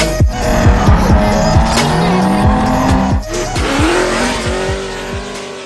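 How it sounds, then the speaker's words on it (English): Drift cars sliding around a track, with loud, sustained tire squeals and engines revving and bouncing off the limiter, several sweeps overlapping up close. "cars drifting in the background"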